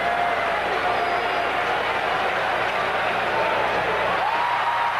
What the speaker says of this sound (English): Crowd roaring with each delivery now.